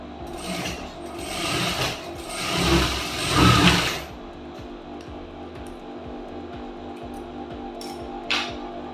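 Sewing machine stitching a dart in a blouse lining, with a rapid mechanical whirring and clatter in bursts that gives way to quieter handling and rubbing of fabric, all close and with no talk.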